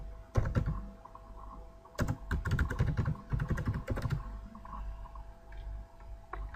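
Someone types on a computer keyboard, entering project details into lab software during initial setup. Quick bursts of close keystrokes are broken by short pauses, and the typing trails off near the end with no talk.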